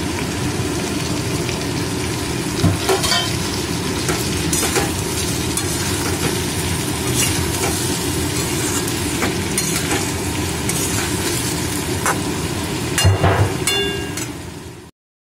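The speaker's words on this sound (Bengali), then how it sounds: "খিচুড়িতে দেওয়ার জন্য যা যা সবজি সব এই সময় দিয়ে ভালো করে কষিয়ে নিলাম।" Winter vegetables with tomato, green chilli and peas sizzle and fry steadily in a kadai for vegetarian khichdi, a continuous close hiss broken by occasional spatula scrapes and stirring clatter.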